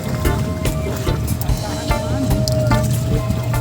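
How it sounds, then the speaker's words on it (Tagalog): Boat wake waves slosh and splash against a fishing spot in a steady wash of water noise, with broadband bursts throughout and voices talking over it. "Alon na naman yan."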